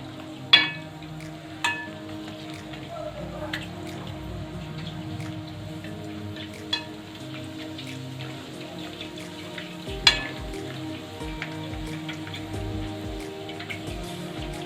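Pani puri dough rounds frying and puffing in hot oil at home, a steady soft crackle and bubble throughout with a few sharp louder pops and clinks scattered across.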